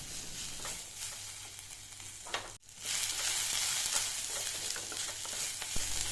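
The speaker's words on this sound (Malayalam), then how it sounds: "കൂട്ടത്തിൽ തന്നെ സവോള നമ്മൾ ചേർത്ത് കൊടുത്ത് വഴറ്റിയെടുക്കാം" Chopped onion sautés in a hot pan with garlic and ginger for a Kerala spinach-and-lentil curry, giving a steady close sizzle with the scrape of stirring throughout.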